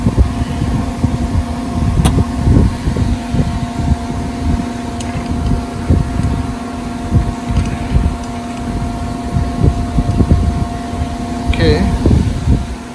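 A lathe turning at about 330 RPM cuts UHMW plastic, giving a steady machine hum and whir with irregular scraping bursts from the cut, close and continuous, with a brief spoken word near the end.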